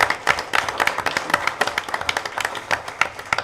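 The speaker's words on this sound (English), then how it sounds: "Let's give him another round of applause, please." An audience at a city council work session applauds the new police chief, a busy patter of many hands clapping with sharp individual claps popping out, steady and close throughout.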